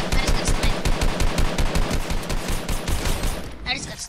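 Rapid automatic gunfire from the video game Fortnite rattles in a fast, steady burst of repeated shots that runs for about three and a half seconds before stopping.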